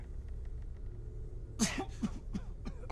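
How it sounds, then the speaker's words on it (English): A short fit of several harsh coughs in quick succession from the video game Starfield, close and fairly loud over a low background hum. "Sorry for the coughing."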